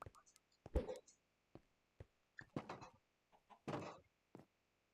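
Chickens in Minecraft Bedrock Edition cluck in faint, short, scattered bursts, with soft clicks between them.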